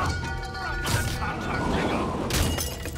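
Rockets streak in and blast against Spider-Man in the Spider-Man Remastered game, with repeated whooshing bursts and crashing impacts near the start and end over a dense layer of combat noise and game voices.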